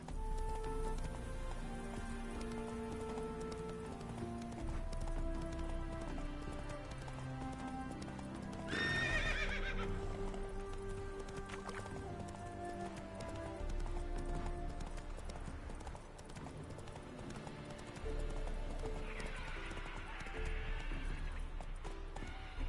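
A horse in The Witcher 3 gallops with rapid, rhythmic hoofbeats over in-game music, neighing loudly twice along the way.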